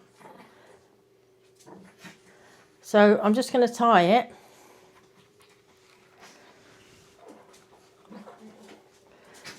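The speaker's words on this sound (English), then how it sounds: "If you can hear the dogs in the background fighting," A dog whimpers and yips in a loud burst of squeals, with softer whines before and after while a person talks nearby.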